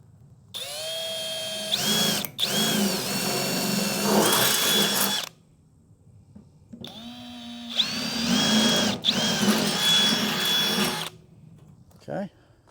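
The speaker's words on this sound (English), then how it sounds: "Now let's get the drill and drill some holes." A power drill whirs loudly in two long bursts, spinning up and bogging down as it bores holes to mount a trailer tongue tool box, with brief pauses between and a short final zip.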